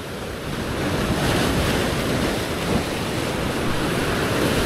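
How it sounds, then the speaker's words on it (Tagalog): Ocean waves surge and wash continuously, a broad roaring hiss mixed with wind buffeting the microphone. "malaki-laki ang alon yan oh."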